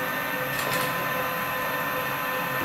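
A CNC machine run from a Mach 3 control system through a handheld pendant, jogging along its X axis with a steady loud motor whine and tonal hum, alone and unbroken.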